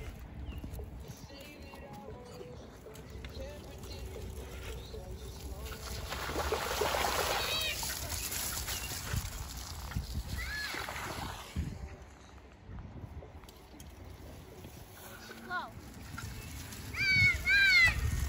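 A bike churns through a mud pit during early-morning mud-bogging, making a low sloshing, splashing rumble with uneven thumps that swells louder near the end, while people talk and exclaim.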